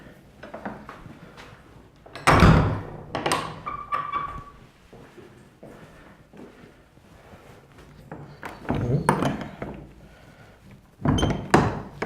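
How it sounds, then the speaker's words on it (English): A big, heavy old church door with an iron handle is pushed open in the English countryside: several loud thuds, clunks and metallic knocks up close, with quieter creaks and shuffling between them and no talking. "It's got a big heavy door."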